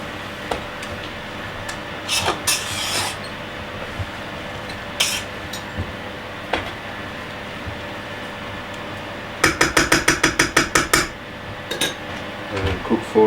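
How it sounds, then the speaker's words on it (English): Half-cooked rice being stirred with a cup of coconut cream in a pot, heard as scattered utensil clinks and scrapes over a steady background, with a quick burst of rapid metallic taps near the end. "Now I'm adding the coconut cream, 1 cup. Just mix a little bit."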